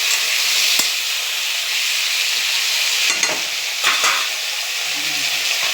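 Potato and eggplant curry frying in a pan, with a steady close sizzle and hiss and occasional stirring scrapes, no talk.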